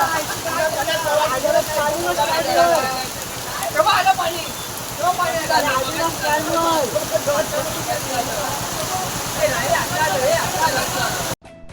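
Steady roar of flood water pouring through shops and a market area in Pawas, Ratnagiri, continuous and close, with people's voices mixed in.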